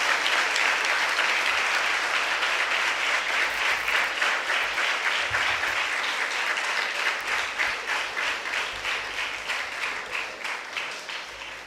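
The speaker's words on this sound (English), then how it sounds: "give a huge round of applause again for Sir and his contributions" Audience at a school event applauding in a sustained wave of many hands clapping, loud and dense at first, then thinning and fading toward the end.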